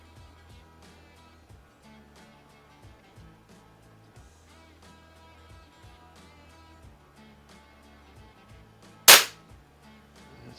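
A single sharp crack of a Baikal IZH-46M air pistol fired at a 10 m target, loud and isolated, standing out above quiet background music.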